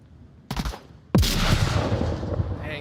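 Gunfire and a grenade blast in a competitive shooter video game, a brief burst of shots followed by a loud explosion that rumbles and trails off, with a faint voice under the noise.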